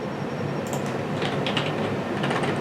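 Rapid clicking of keys on a computer keyboard while playing Minecraft, a continuous close patter of light taps over steady background noise, with no speech.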